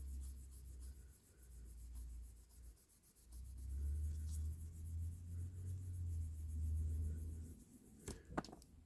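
Scratches are rubbed off the body of a 1957–59 Corgi Toys Standard Vanguard diecast model car with a steady, faint, low scrubbing that rises and falls in a back-and-forth rhythm, followed by a couple of small clicks at the end.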